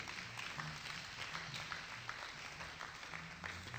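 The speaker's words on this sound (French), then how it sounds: "Applaudissez le Seigneur Jésus" Church congregation applauding during a sermon on spiritual warfare, a quiet, steady patter of many hands clapping with no speech over it.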